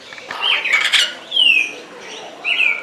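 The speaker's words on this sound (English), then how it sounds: "They have a bunch of different birds just kind of flying around." Birds squawking in a parrot garden, loud close harsh calls and descending screeches in three bursts, with faint flapping between them.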